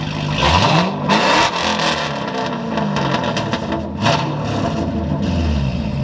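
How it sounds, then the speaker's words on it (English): A C6 Corvette engine sits under the hood of a custom build, revving loud and close in several rising and falling pulls over a rumbling idle. "this is a C6 Corvette. So that is why you get that normal sounding."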